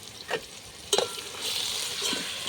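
Vegetable curry with chili powder stirred in a pan, a spoon scraping and knocking against the metal over a soft continuous sizzle.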